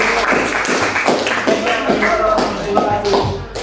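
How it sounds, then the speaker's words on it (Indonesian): A class of students gives a round of applause for a presenting group in a coding lesson, steady close clapping with some chatter and shuffling underneath throughout. "Tepuk tangan dulu untuk kelompok ayam."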